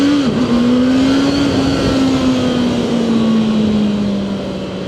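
A sport motorcycle, either a 675SR-R or a CBR650R, accelerates hard with a loud, close engine whose pitch climbs steadily through a long pull and then eases off slightly at the end, with no talking.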